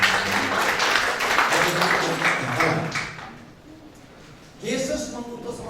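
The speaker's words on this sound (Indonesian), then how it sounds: "Tepuk tangan bagi Allah." Congregation clapping and applauding during a church worship service, a steady dense wash of applause for about three seconds that fades, then swells again near the end, with speech mixed in.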